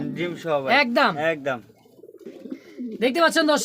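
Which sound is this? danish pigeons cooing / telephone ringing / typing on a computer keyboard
danish pigeons cooing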